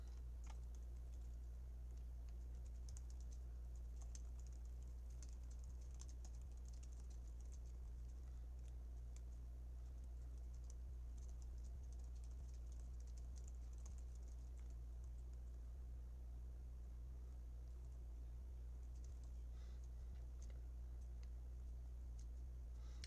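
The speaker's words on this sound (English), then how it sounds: "I'm gonna be taking down on my notes on my laptop" Quiet typing on a laptop keyboard, soft irregular key taps running continuously over a strong low electrical hum.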